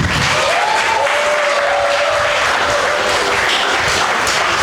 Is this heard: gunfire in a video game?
no